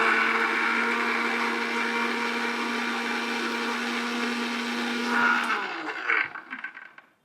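A mixer grinder blends a knee-pain juice with a loud, steady motor whir that holds evenly for about five seconds, then winds down and stops with a few rattling clunks, close and alone.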